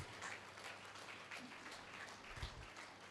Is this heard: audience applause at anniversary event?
yes